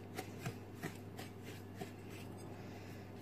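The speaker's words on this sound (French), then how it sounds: "Bien mélanger et incorporer le beurre." Butter being worked into biscuit crumbs by hand: faint, rhythmic gritty rubbing and crumbling, close but quiet, over a low steady background hum.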